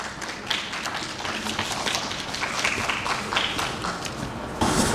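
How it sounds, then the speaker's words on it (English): An audience at a mushroom summit session applauds a guest speaker, a dense, steady patter of clapping that carries on evenly through the whole moment. "Please give him a huge round of applause."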